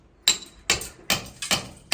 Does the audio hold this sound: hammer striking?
yes